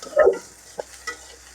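Chopped green chili and onion hitting hot oil in a wok for potato and egg fry, with a brief loud burst at first, then a few light stirring scrapes over a soft sizzle, close and with no talking.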